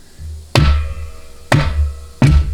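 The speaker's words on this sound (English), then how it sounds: "So just take a hammer and tap on it smartly until it's fully seated." Three sharp metallic hammer taps seating a bolt-in center support in a 700R4/4L60E transmission case, spaced about a second apart, each ringing briefly before fading, close and fairly loud.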